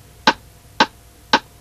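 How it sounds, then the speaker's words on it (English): Three evenly spaced metronome clicks from a click track, crisp and close, sound alone before guitar playing. "So let's try this with the click."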